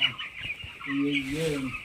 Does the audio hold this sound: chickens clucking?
yes